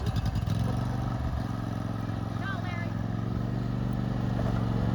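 A lawn mower engine runs during a lawn mower race, a steady mid-pitched droning buzz that starts with a rough sputter and then holds an even, continuous note.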